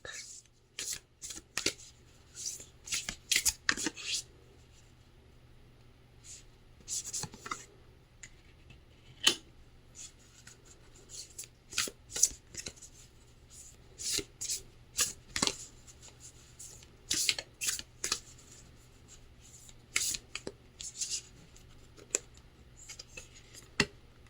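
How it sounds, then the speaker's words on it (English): A deck of oracle cards is shuffled close up, with dry riffling flutters and sharp card snaps in irregular bursts against a faint steady hum, with brief pauses between handfuls. "So I'm going to pull a couple other cards from this deck."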